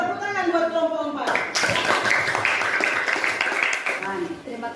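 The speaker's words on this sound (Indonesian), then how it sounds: "tepuk tangan buat kelompok 4" Classmates clap for group 4 during an Indonesian crafts lesson. A burst of brisk, close clapping breaks in after a voice, runs for a few seconds, then fades as talking resumes.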